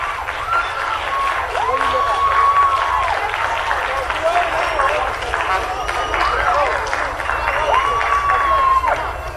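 A large crowd screams and cheers continuously in Times Square, loud and dense throughout, with voices shouting over the din.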